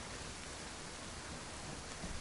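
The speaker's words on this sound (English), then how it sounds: "it was heavy raining like this" Heavy rain pours in the survival video game DayZ, a quiet, dense, unbroken hiss with faint low rumbling and no voices.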